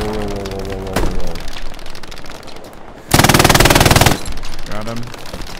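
An MG42 machine gun firing from a defensive position at Omaha Beach in Hell Let Loose, heard as a loud, close, continuous rapid burst of about a second, with single shots and battle noise around it.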